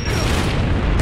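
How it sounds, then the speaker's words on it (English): A frag grenade explodes in a video game, a single loud, close boom with a full, roaring body lasting about a second. "Incoming frag."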